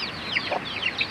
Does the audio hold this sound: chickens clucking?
yes